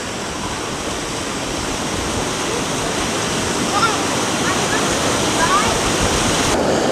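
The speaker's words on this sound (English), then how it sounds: "There's a big rush over those rocks." River water rushes over rocks at Castor River Shut-Ins near Fredericktown, Missouri, making a steady, loud broadband roar that stays unbroken throughout, with some wind buffeting on the microphone.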